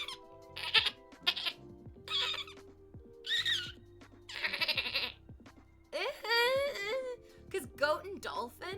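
A person imitates a goat with a series of wavering, nasal bleats, several short cries in a row with a longer quavering one near the end, mixed with bits of talk and laughter.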